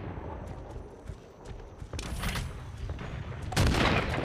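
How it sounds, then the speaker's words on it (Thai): A gunshot fired in the dinosaur game Jurassic Monster World, with sharp bangs rising out of a low busy game background and a louder blast near the end. "กดยิงไปโดยที่ยังไม่ทันได้เล็งเลย"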